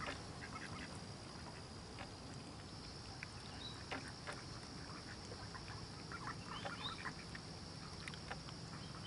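Ducks at Grenadier Pond in High Park quack and call faintly now and then over a steady outdoor hiss and a high continuous tone, with no voices.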